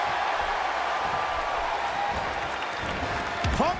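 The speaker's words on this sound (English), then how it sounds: "there's no quieting this New Orleans crowd tonight" Arena crowd in New Orleans cheering during a wrestling match in the WWE 2K15 video game, a dense, steady roar of applause and voices throughout, with a commentator talking over it near the end.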